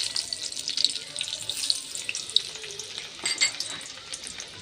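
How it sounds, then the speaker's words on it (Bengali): Chopped garlic hits hot oil in a pan while cooking chili chicken, a continuous bright hiss and crackle of sizzling with small pops, close and steady throughout. "এই তেলের মধ্যে দিয়ে দেবো আমি রসুন কুচি"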